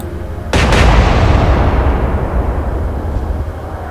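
Warship guns firing shells in the Atlantic Fleet game during an alternate Battle of Jutland: a sudden loud double boom gives way to a heavy rolling rumble that dies away slowly over several seconds.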